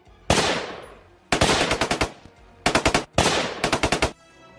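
Gunfire sound effect set in a wartime scene near an army camp: one heavy shot with a long decaying tail, then three rapid bursts of automatic fire, each a quick string of loud, sharp cracks, with no voices.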